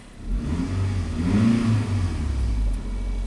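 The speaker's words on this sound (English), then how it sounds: "Engine's warming up fine," Toyota Highlander SUV with a 4-cylinder engine revving, a near, moderately loud low engine drone rising in pitch and falling back, heard alone with no talking.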